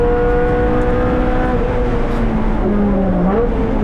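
A Subaru race car, nicknamed Little Red and running on worn rear shocks, accelerates down an open track, its engine loud and close, climbing in pitch and then dropping at a gear change.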